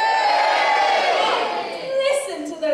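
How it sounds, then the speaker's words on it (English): A pantomime audience of children and adults cheering loudly as one sustained crowd roar that fades, followed by a performer speaking. "So come on, boys and girls, give me a great big cheer"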